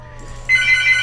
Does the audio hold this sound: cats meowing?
no